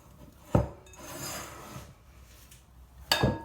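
Vegan bread dough is kneaded by hand on a floured surface, with two sharp thumps of pressing and slapping separated by soft rubbing and dragging sounds, fairly quiet and close.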